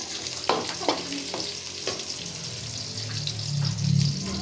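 Garlic and onion sauté in a hot pan, a close crackling sizzle with a few spoon scrapes and taps, swelling into a louder hiss toward the end, no voices.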